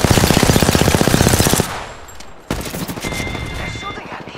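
Automatic gunfire in the shooter game Apex Legends: a rapid, loud burst of evenly spaced shots, a brief lull, then a second run of fire with more scattered reports.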